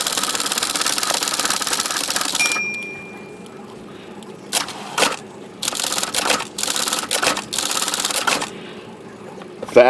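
A vintage 1970 Hermes 10 typewriter runs with a dense mechanical clatter, then a pause, then bursts of rattling and clunks as the decelerated carriage return plunges smoothly, close and loud, ending in a sharp knock.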